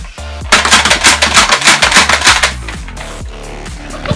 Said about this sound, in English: This is the strong arm.